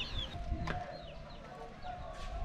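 Chickens on a Vietnamese farm clucking, with chicks peeping and a rooster nearby, a close, steady mix of overlapping bird calls without talk.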